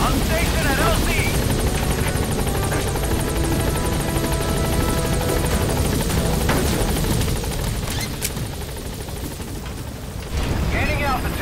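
Support helicopter in the Metal Gear Solid V video game arriving at a landing zone, its rotor a loud, continuous thudding roar close by, while a radio voice calls out.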